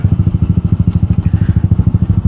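A motorcycle with an open racing exhaust and no muffler idles close and loud, its rapid, even, lumpy pulses throbbing steadily without talk.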